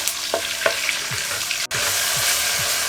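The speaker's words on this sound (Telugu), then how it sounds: "ఈ ఉల్లిపాయలు కొంచెం దూరగా వేగాలి, వేగే వరకు వేయించుకుందాం." Onions for mutton keema fry in hot oil with a steady, close sizzle, broken by a few scraping stirs of a spatula and one brief dropout; no one speaks.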